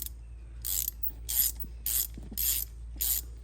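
Reversible ratchet wrench turning bolts on the front suspension of a Chrysler 300 during control arm and bushing replacement: five close bursts of rapid ratcheting clicks, evenly spaced with short pauses between, and no talking.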